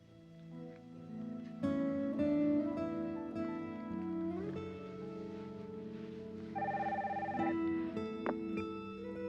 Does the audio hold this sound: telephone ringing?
yes